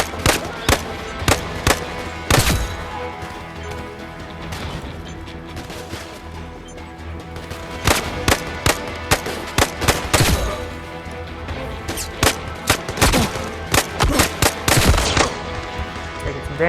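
Rapid bursts of VR gunfire in Zero Caliber Reloaded on Oculus Quest, sharp repeated shots in clusters with short pauses, loud and close, followed by a dense flurry of rounds near the end.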